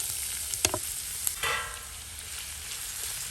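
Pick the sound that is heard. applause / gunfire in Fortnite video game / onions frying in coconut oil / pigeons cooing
onions frying in coconut oil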